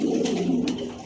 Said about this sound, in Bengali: একদম নতুন কবুতর।